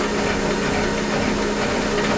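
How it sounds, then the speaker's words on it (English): Haas Super Mini Mill CNC vertical machining center peck drilling a deep hole, a steady loud machine whine and hum with dense broadband cutting noise running continuously and close throughout. "Deep hole drilling, look at this."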